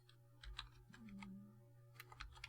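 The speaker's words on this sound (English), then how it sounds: "I'm trying to remember to press the keys quickly." Computer keyboard keys are pressed in quick irregular taps, faint clicks scattered over a low steady hum from nearby equipment.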